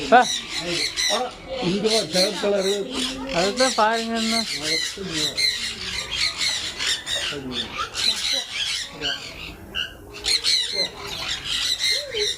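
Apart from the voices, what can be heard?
Amazon parrot squawking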